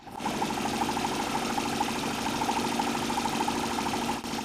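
A Stirling engine fitted to a bicycle runs steadily with a fast, even mechanical whir and a rhythmic ticking pulse, close and continuous throughout, with no voices.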